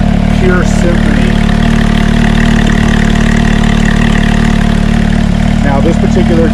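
A Porsche 991.1 GT3 fitted with a lighter Sharkworks exhaust idles with a steady, loud, deep drone close by, while talk carries on over it.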